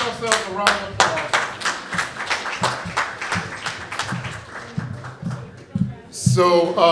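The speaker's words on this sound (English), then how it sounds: "Give yourselves a round of applause." Audience at a creative arts summit clapping in a lively round of applause, many hands close by in a dense, uneven patter, with a voice speaking as it fades out.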